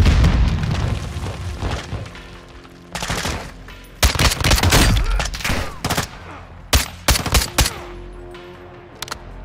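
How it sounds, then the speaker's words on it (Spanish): Grenade blast and heavy gunfire in Call of Duty: Modern Warfare 2 during a rooftop prison-break firefight, with dense rolling bursts, a loud boom near four seconds, and sharp close shots toward the end. "Granada."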